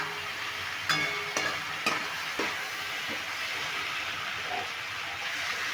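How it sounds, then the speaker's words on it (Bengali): Potatoes sautéing with spices in a pan over medium heat after a splash of water, a steady close sizzle with several sharp spatula scrapes and taps early on. "এবার মিডিয়াম আছে আলুটা ভালো করে মশলার সঙ্গে কষিয়ে নিতে হবে"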